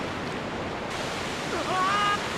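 A waterfall in the video game The Legend of Zelda: Twilight Princess gives a dense, steady roar of rushing water filling the whole clip, with a faint rising tone near the end.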